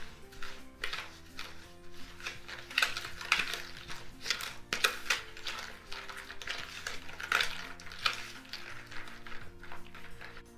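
Repeated scraping and clinking of a spoon rubbing yeast with sugar in a bowl, uneven strokes with sharper taps, over faint background music.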